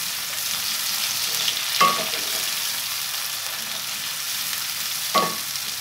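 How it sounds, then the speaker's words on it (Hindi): Okra and potatoes frying in a pan give a steady close hiss, broken by two brief spatula scrapes as the vegetables are stirred; no one speaks. "बस थोड़ा सा ये 2 से 3 बार इसे अच्छे तरीके से हिला लूँ।"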